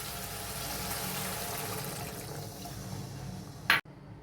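Water poured into a pan of cooked-down spice paste of turmeric, poppy seed and sesame, a steady rushing pour ending in a brief loud splash and hiss before cutting off.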